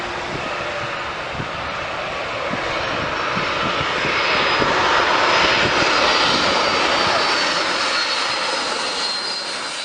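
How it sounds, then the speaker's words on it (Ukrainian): A large airplane with powerful engines flies past, a steady broadband roar that builds to its loudest midway and stays strong and close throughout, with no voices. "Літак це дуже великий і гарний літаючий апарат, здатний літати в небі завдяки своїм потужним двигунам."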